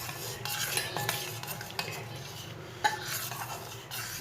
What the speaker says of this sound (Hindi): अब मैं इसको अच्छी तरह मिक्स कर लूँगी।